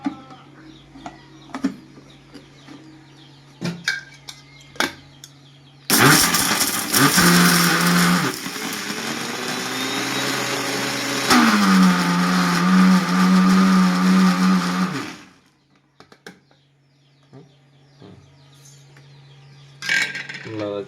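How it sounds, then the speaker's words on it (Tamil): An electric mixer grinder grinds a mixture for a remedy that keeps country chickens free of colds, a loud steady whirring for about nine seconds with brief clicks and knocks before and after it. "கொஞ்சம் மிக்சியில் போட்டால் ஈஸியாக இருக்குமன்றதுக்காக மிக்சியில் போடணும்"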